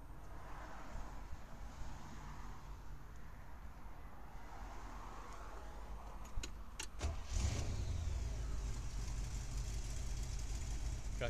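A 1959 Chevrolet Corvette with a period-correct 283 V8 cranks and fires about seven seconds in, settling into a loud, steady rumble close by after a quieter stretch of low engine noise and a few sharp clicks.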